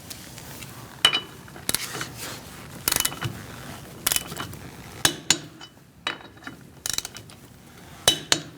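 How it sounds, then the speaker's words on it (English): A 19mm socket on a ratchet or torque wrench tightens the wheel lug nuts on a 2016-2019 Chevrolet Cruze, giving a series of close, metallic ratcheting clicks in short uneven bursts. "Using a 19mm socket, we're going to torque our wheels to 100 foot-pounds."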